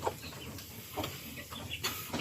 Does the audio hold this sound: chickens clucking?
yes